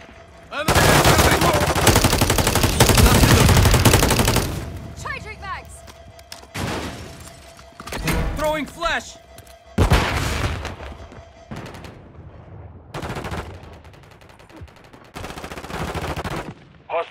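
Heavy automatic gunfire from Call of Duty Modern Warfare 3, loud sustained bursts up front followed by shorter volleys and isolated shots, mixed with game voice callouts and explosions.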